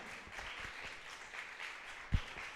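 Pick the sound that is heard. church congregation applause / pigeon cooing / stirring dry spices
church congregation applause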